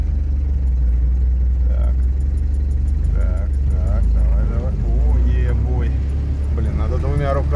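UAZ off-road vehicle's engine runs loud and steady as it pulls away on a first drive into the forest, a constant low rumble throughout with people talking over it.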